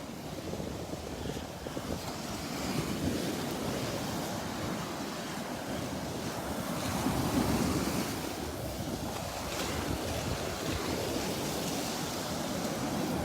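Ocean waves break and wash continuously onto the shore at Delnor-Wiggins beach on a morning, a broad steady roar with gentle surges, mixed with some wind rumble and no voices.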